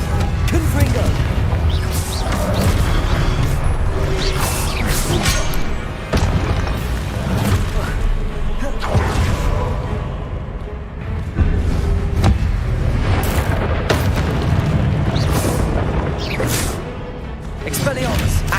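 Repeated Confringo blasting-spell explosions during a Hogwarts Legacy combat sequence, a loud series of crashing booms and thuds over continuous battle clamor, with game voices throughout.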